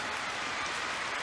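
A large arena crowd applauds after a figure skating free skate at the 2013 Grand Prix Final, a dense, steady wash of clapping heard from a distance with no break.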